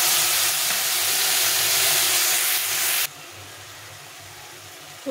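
A ginger, cumin, green chili and coriander paste hits a hot pan with a loud, steady sizzling hiss, close up, cutting off sharply about three seconds in to a much quieter background.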